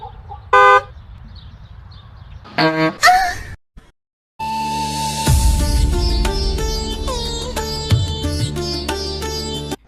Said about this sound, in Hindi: सिग्नल पे गाड़ी रुकी, हॉर्न बजाओ।